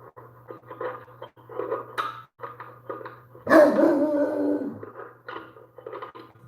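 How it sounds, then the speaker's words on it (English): A neighbor's dog barks once loudly and close in the middle, a short rough burst set against steady low hum and quieter background chatter or yips on either side. "It's my neighbor's dog."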